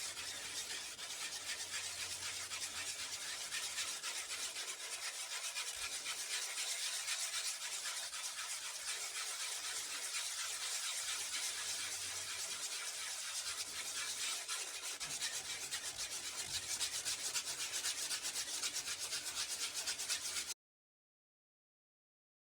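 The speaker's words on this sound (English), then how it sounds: "just sanding" Continuous close scraping and rubbing as a styrofoam-and-cement panther statue is sanded by hand, a steady gritty hiss lasting about twenty seconds before stopping abruptly.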